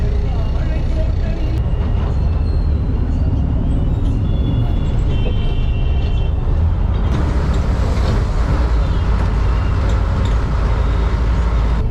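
Loud, steady rumble of an MTC city bus engine running continuously between Kunrathur and Kilambakkam, with broadband road and mechanical noise throughout and a brighter hiss entering partway through.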